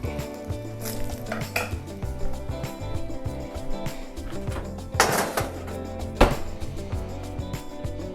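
A pan of blackened Cajun salmon being moved into a 450-degree oven: clanking metal pan and utensil knocks, a few sharp clangs against a light sizzle, close and without talk.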